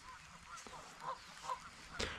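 Geese give several short, faint honks in an outdoor setting beside a trout stream in the rain, scattered over a couple of seconds against a low background.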